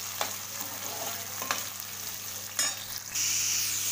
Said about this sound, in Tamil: ஸோ ஆயிலே நல்லா ஃப்ரை ஆகணும்.